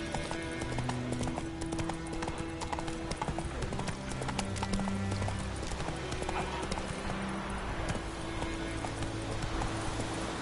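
Hooves of Roach, the horse in The Witcher 3: Wild Hunt, clip-clop in a steady galloping rhythm over a constant bed of game music and ambience, with a brief whinny.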